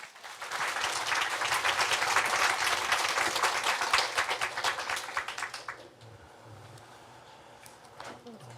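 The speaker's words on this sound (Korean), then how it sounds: "우리 나오실 때 그래도 환영과 축복의 박수 하도록 할까요?" A church youth congregation breaks into welcoming applause for their senior pastor as he comes forward, steady dense clapping for about six seconds before it fades to a quiet room with a faint voice.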